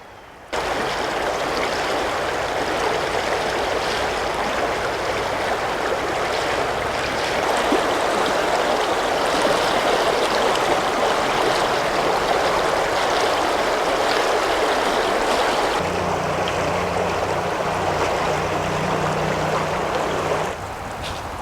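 A mountain creek in the Great Smoky Mountains near an old homestead flows in a steady, close, continuous rush of water with no talking.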